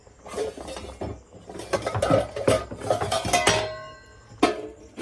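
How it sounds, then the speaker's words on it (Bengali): A metal lid is set onto a cooking pot of water in a home kitchen, giving a few close, sharp clinks and scraping rattles with brief quiet gaps between. "একটা ঢাকনা দিয়ে আপাতত ঢেকে দিচ্ছি"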